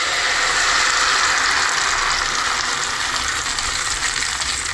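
Flour hits hot oil in a pan already holding urad dal, fenugreek and mustard seeds for traditional Konkani undi, giving a loud, steady, hissing sizzle that carries on without a break.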